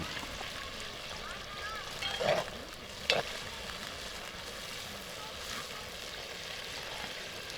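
Cooking oil sizzles in a pan with a steady broadband frying hiss, flaring up in two brief louder bursts partway through; a voice is faintly present beneath.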